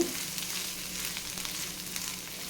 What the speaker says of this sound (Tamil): இப்போது இஞ்சி பூண்டு பேஸ்ட் வந்து நல்லா வதங்கி வந்திருக்கு